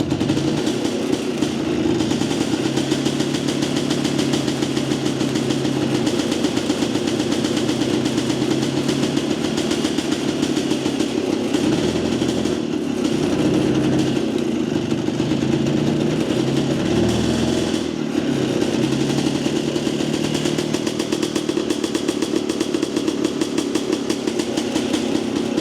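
A Jawa 250 motorcycle engine running on a dyno drones loudly and steadily throughout, a continuous close buzzing roar with slight changes in pitch.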